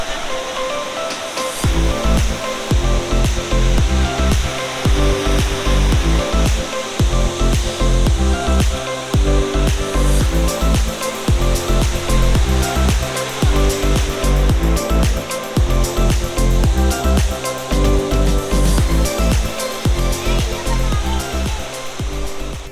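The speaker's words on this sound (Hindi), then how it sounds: "सैंड क्लियर वाटरफॉल, आप यहाँ से देख सकते हैं" A waterfall near Nuwara Eliya in Sri Lanka gives a loud, steady, unbroken rush of falling water that fills the whole stretch.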